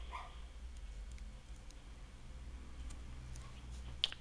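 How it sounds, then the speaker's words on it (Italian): Dogs bark at a house entrance, a few faint, distant barks rising over a quiet, low background hum. "Prima ho fatto arrabbiare i cani con il flash, quindi adesso abbaiano."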